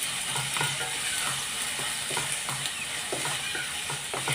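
Onion, ginger and garlic frying together in a pan for a spicy prawn masala, a steady close sizzle with repeated stirring scrapes, no talking.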